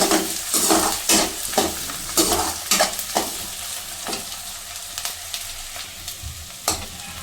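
Onions and chilies fry in a pan under a steady sizzle, punctuated by repeated scraping stirs of a spatula against the metal, close and fairly loud.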